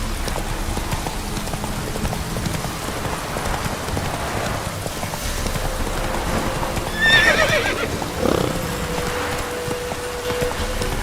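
Roach the horse in The Witcher 3 gallops with steady clip-clop hoofbeats over a constant rain wash, giving a brief whinny midway through.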